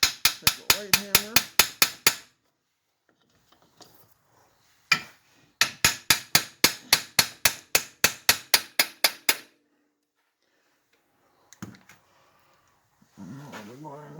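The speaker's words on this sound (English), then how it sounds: "I'm just going to take a light hammer." A light hammer taps on the front suspension of a 2002 Suzuki Vinson 500 quad during a rebuild: two quick bursts of sharp, evenly spaced metallic strikes, close and loud, separated by quiet gaps with faint handling noises and a brief low voice near the end.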